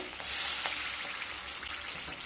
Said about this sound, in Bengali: এবার ওই তেলের মধ্যে হাফ চামচ কালো জিরে দিয়ে দেব, দুটো চেরা কাঁচা লঙ্কা